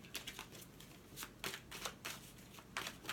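Tarot cards being shuffled and drawn, a series of soft, close riffling bursts spaced at irregular intervals, quiet and alone with no talk.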